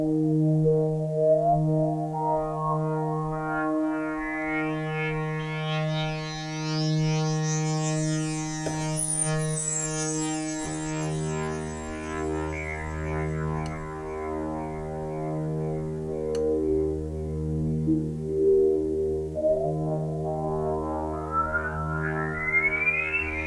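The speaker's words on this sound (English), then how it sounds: "So that little sort of whale song that's going on there is the modulation of the resonance in this sort of random way" A Dreadbox Typhon synthesizer holds a sustained tone while sample-and-hold randomly modulates the filter resonance, producing wandering, whistling, whale-song-like sweeps and glides over a droning bass, steady and alone throughout.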